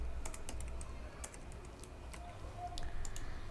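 Keys clacking steadily on a computer keyboard while code for an e-commerce site in PHP and MySQL is written, a run of quick irregular taps at close range over low room hum, with no talk.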